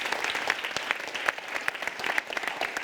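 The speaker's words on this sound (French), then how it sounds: "Donc on peut les applaudir également." Audience applause at an evening launch event, with a steady, dense patter of many hands clapping, some sharp claps standing out near the front, and faint voices mixed in.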